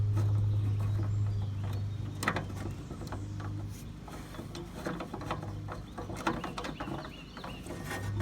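A 3/8 ratchet tightens a bolt on a riding lawn mower's starter solenoid, giving quiet rapid clicking in short bursts over a low steady hum.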